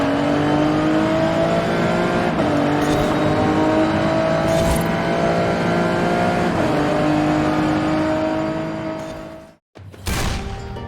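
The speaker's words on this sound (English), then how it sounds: "just hearing the roar of the engine in cockpit mode" A car engine roars from the cockpit view in the racing video game Forza Horizon 5: a loud, continuous drone that climbs steadily in pitch, cuts out briefly near the end, then returns.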